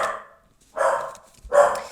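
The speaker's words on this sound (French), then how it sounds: "On ne sait pas pourquoi, mais il aboie." A small dog barks in two short, loud bursts separated by a quiet pause, close to the microphone with no talk over it.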